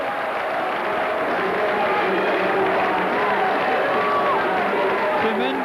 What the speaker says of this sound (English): Tremendous cheer.